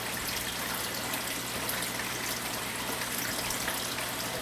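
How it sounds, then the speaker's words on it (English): Water flowing steadily through an aquarium siphon drip counter, a constant soft trickling hiss with no break, alone and fairly quiet. "So you squeeze it, air bubbles come out, let it go, water comes down"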